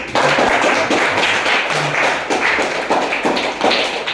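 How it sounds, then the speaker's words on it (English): A round of applause from an audience at an English-language Dharma talk on giving, with dense, steady hand clapping filling the whole stretch at close, loud level and no talking over it. "Can we give a round of applause for everyone here?"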